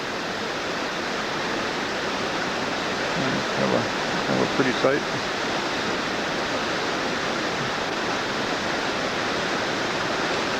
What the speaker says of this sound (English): Avalanche Creek here at this point comes roaring down from between the rocks.